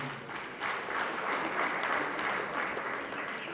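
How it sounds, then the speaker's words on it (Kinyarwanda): Applause from guests at a Rwandan engagement ceremony, a sustained, moderately distant crowd clapping that swells and then holds steady. "Nimumuhe amashyi."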